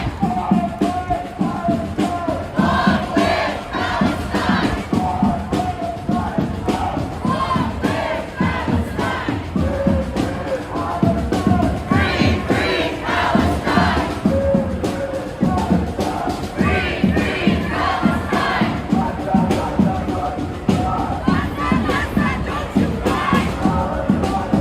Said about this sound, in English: Even bigger crowd than last weekend.